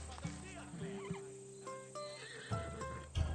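A horse whinnies in Assassin's Creed Odyssey, a short neigh over game music and effects, with a voice speaking around it.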